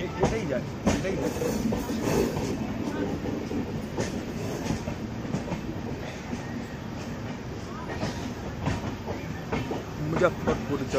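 The Tirhut Express rolls into Muzaffarpur railway station, a continuous rumble of wagons with rhythmic clickety-clack from the wheels and occasional squeals, heard close from on board while people talk nearby.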